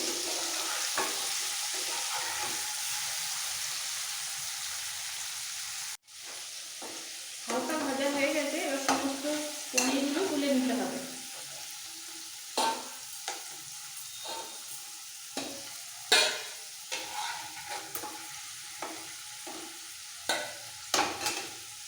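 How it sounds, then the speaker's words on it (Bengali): Paneer cubes fry in oil in a pan, a crackling sizzle broken by repeated scraping stirs and utensil knocks, close and fairly loud, with no talk. "এবার একটু হালকা উল্টে পাল্টে ভেজে নেব সব পনির দিয়ে দিয়েছি একসাথে যাতে পনিরের গায়ে হালকা ভাজা হয়ে যায়"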